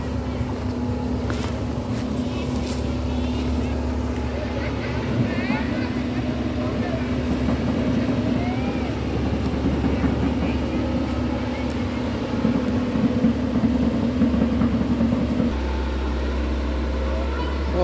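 A backhoe's heavy engine rumbles steadily with a low drone throughout as it digs in a pond to find fish, alongside scattered mechanical clanks and ambient noise; the engine tone shifts near the end.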